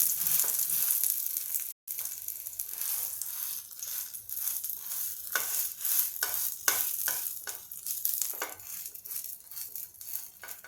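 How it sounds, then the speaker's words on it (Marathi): Thalipeeth dough made from barnyard millet being spread over hot ghee in a pan, a soft sizzle broken by repeated patting and pressing taps as the dough is flattened, close and quiet with no voices. "यावर थोडंसं आपण तूप टाकणार आहोत या तुपावर लागलीच हा गोळा तूप खाली जायच्या आधी पसरवून घेऊया"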